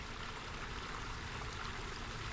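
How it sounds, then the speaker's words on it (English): Water splashes and trickles steadily in a DIY waterfall feeding a koi pond, a continuous dense rushing wash heard up close with no voices. "listening to that water?"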